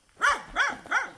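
A frightened dog at a kennel in Moorthimon, Thekkuthodu, an area with wild elephants, gives three evenly spaced, close, sharp barks with nothing else heard.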